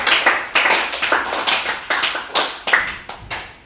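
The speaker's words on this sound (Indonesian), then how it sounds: "tepuk tangan dulu." Rhythmic group clapping in a classroom, sharp repeated claps falling in a steady patterned beat, loud and close with no talking over it.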